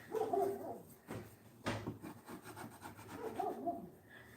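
A lard-greased scraper rasps across pie dough in close, rough scraping strokes that rub back and forth, with a brief sharper scrape in the middle.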